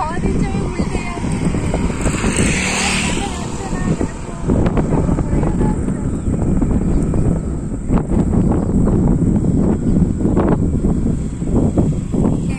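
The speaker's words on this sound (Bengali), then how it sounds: "এতটাই হাওয়া দিচ্ছে আমি উল্টে যাচ্ছি।" Strong wind buffets a microphone outdoors at sunset, making a constant loud rumble and roar. A person speaks briefly early on.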